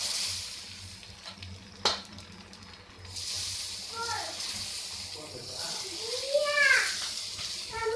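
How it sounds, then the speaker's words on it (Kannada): Foxtail and pearl millet dosa batter sizzling on a hot tava, a steady close frying hiss with a sharp click partway through and a voice speaking over it. "ಈಗ ದೋಸೆ ಹಾಕೋಣ. ತವ ಕಾದಿದೆ."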